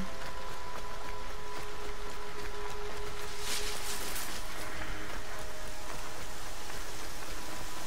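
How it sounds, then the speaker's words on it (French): Heavy rain in the video game Horizon, a dense steady hiss of falling drops with a few faint tonal game sounds beneath, and a brief brighter splash of noise midway. "Oh, il pleut de ouf."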